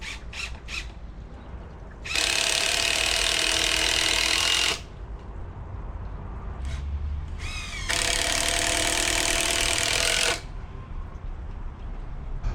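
Two loud bursts of a power saw cutting a timber rafter for a garden pergola, each screaming through the wood for about two and a half seconds, separated by quieter handling noise.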